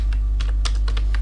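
Fingers tap out a burst of quick, uneven keystrokes on a computer keyboard, close and crisp over a constant low electrical hum, with no talking.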